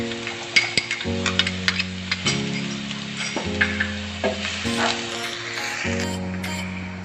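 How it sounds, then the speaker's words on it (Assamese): Chopped onions sizzling in hot oil while cooking a crispy egg recipe with potato and bread crumbs, a steady crackling hiss with scattered pops, playing alongside a looping musical tone. "তেলখিনি গৰম হৈছে মোৰ। এতিয়া মই ইয়াতে পিঁয়াজ দিম"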